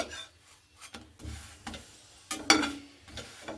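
A flatbread being roasted in a pan and turned by hand: soft, dry rubbing and scraping strokes that come in short intermittent bursts, with a few sharper scuffs, quiet and close, and no talking.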